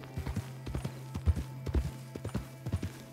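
A horse gallops through the bayou in the Red Dead Online video game, its hooves drumming in a fast, steady rhythm close by over a low droning hum, with no talk.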